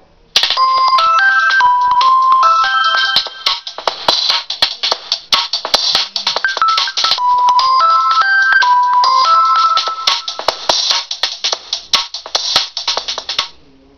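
A Nokia Lumia 520 Windows Phone plays its Two-step ringtone, a loud, busy electronic melody of quick repeated notes looping steadily for about fourteen seconds, close and clear with no voices over it.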